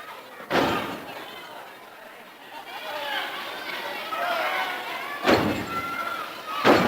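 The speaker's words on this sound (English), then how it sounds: "Scooping him right up. Slamming him down." A wrestler slammed down onto the canvas during a 1976 WWWF All Star Wrestling tag team match, with loud thuds at the start and near the end rising over a continuous arena crowd murmur.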